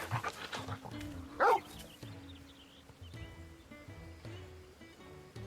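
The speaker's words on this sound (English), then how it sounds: "This is Torgal, a wolf pup raised in the duchy." Torgal, a wolf pup in the video game Final Fantasy XIV, lets out a few short yips and barks at a low level, the sharpest bark about midway, over quiet game music and ambience.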